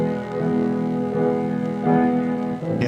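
Low-fidelity cassette demo of a man singing while playing piano at the Dakota building, a brief muffled stretch of sustained piano and voice with a faint hiss.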